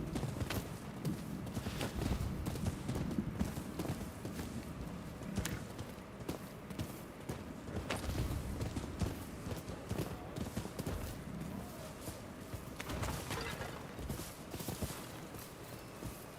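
A horse gallops in the video game Rise of the Ronin, a quick steady clatter of hooves running continuously at moderate loudness with brief faint voice in the background.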